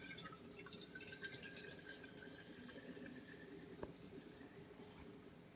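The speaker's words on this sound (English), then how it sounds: "you can hear the beer coming up on the top of the bottle, the sound changes" Home-brewed beer runs from a bottling spigot into a glass bottle as a faint, steady trickle and gurgle, with a tone that shifts as the bottle fills. The sound is close and quiet, with no voices.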